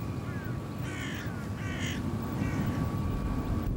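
Crows cawing in the open fields around a Russian military airfield's tarmac, three or four harsh calls over a steady low rumble of wind and distant background noise.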